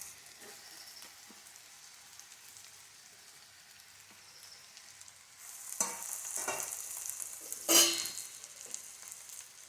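Taro root pieces and a chopped tomato frying in hot oil, a low steady crackle that swells midway into louder stirring scrapes and sizzling bursts, with no voices.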